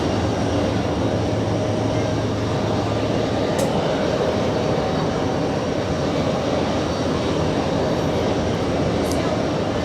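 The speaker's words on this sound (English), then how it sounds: "The 777 lifting off." A Boeing 777 taking off at JFK airport: a loud, steady jet engine roar filling the whole stretch with constant broadband rumble, heard from nearby.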